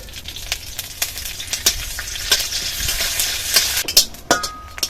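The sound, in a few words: curry leaves frying in hot oil in a wok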